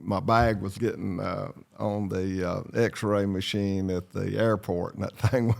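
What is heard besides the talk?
None of the usual background noises is heard.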